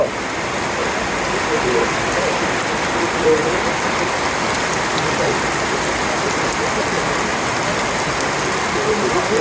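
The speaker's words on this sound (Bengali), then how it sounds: "সুবল দাও গেলো আর বৃষ্টিও নামলো" Heavy rain pours down steadily, a dense and loud hiss of drops on surfaces that holds even and unbroken throughout.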